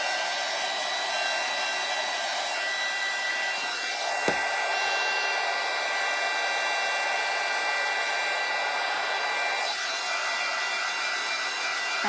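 A hair dryer blows steadily to dry craft paint on a cutting board, a continuous close, loud broadband whoosh with a faint click partway through and no talking.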